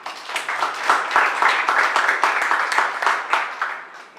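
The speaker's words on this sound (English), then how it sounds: "Can we give him a clap," A crowd at a school graduation for Wanja & Kim Comprehensive School PP2 claps continuously and fairly loudly, the dense, pulsing applause swelling and easing before fading out at the end.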